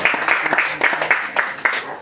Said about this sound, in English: So we can give them another round of applause,